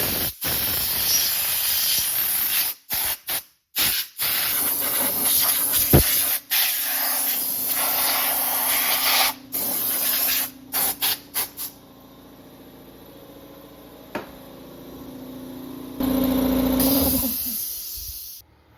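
A loud, continuous hiss of 120 PSI compressed air blasts from a spray nozzle onto an engine with brief cut-offs and restarts, later thinning out before a final burst.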